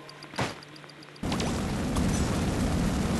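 A rocket blast in the mobile car-combat game Crash of Cars: one abrupt, loud broadband explosion that cuts in and rumbles on steadily to the end, after a brief earlier whoosh.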